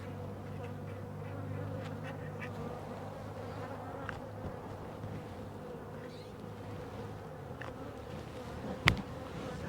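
Bees at Zoe's hive, a steady low buzzing hum continuing throughout, fairly quiet and close, with a sharp knock near the end.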